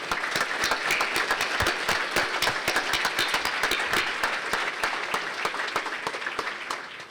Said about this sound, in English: give our outstanding police department a big round of applause